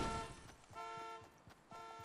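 A car alarm honks in Fortnite after a car is hit, with short repeated horn bursts in an even pulsing rhythm, fairly faint and distant over a brief stretch.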